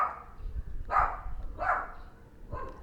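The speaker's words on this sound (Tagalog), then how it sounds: "Ingay ng aso." A dog barks three times at a distance, evenly spaced, over low background rumble.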